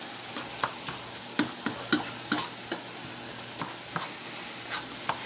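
Ground beef fries in a pan while a utensil breaks it up, giving a soft sizzle under a series of sharp, regular taps and scrapes against the pan.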